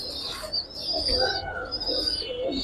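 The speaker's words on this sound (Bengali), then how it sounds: "উড়ানো কবুতর, একদম রানিং উড়ানো কবুতর।" Giribaz and pangkhi flying pigeons coo softly amid chirps and a brief flutter of wings, with a hissy background throughout and no one talking.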